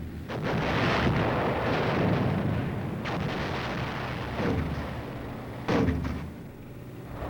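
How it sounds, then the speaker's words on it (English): A barrage of artillery shell fire heard from inside an armored personnel carrier: a continuous heavy rumble with several distinct booming impacts, muffled and steady throughout. "From inside the personnel carrier, we hear a barrage of shell fire laid on the objective."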